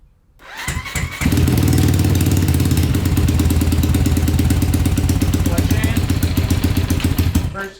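A 190cc five-speed yard kart engine fires up after a brief crank and runs steadily with the rear lifted, a loud, close, rapid buzzing clatter that holds constant, with people talking faintly over it.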